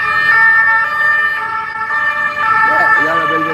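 Police siren wailing on a Paris street, a loud, steady tonal wail with traffic noise, and a voice speaking briefly near the end.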